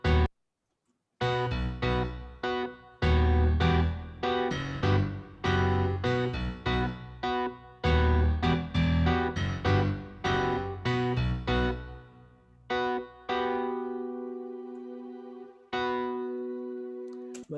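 Piano and synthesizer parts in a rock mix, EQ'd and combined: a bright run of quick chords and notes with heavy effects and distortion, a brief gap near the start, then a slower sustained passage with long held tones.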